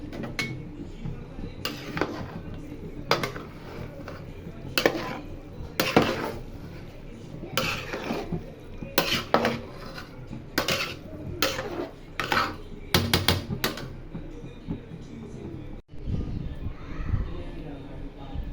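Metal clatter of a spoon stirring biryani in a cooking pot comes in repeated scraping knocks, with someone talking over it and children faintly in the background.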